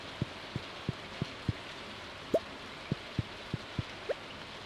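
Rain in Stardew Valley falls as a soft steady hiss with a series of distinct, evenly spaced drip-like ticks, about a dozen over a few seconds.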